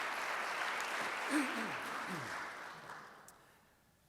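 Soft, distant applause from a Rotary meeting audience, an even wash of clapping with a brief voice over it, gradually fading away.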